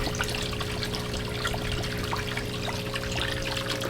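Water splashing and trickling as a fish is released into a pond, a steady close wash of running, dribbling water with no talking.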